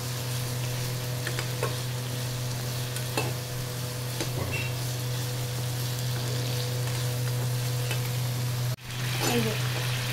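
Soybean chunks go into a pan of tomato sauce, soy sauce and salt, frying with a steady sizzle and scraping stirs throughout, with one sharp clatter near the end.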